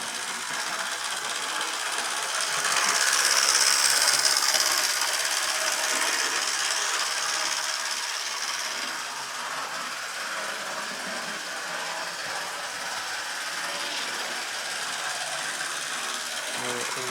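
A DC model locomotive runs on a test track, a steady buzzing, rattling motor whir that swells briefly then settles and continues evenly, fairly close, with occasional talk underneath.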